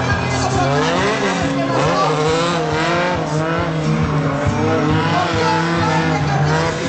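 A 1975–1980 Ford Escort Mk2 rally car on a Greek hill climb, its engine revving hard through repeated rises and falls in pitch, loud and close, sustained throughout.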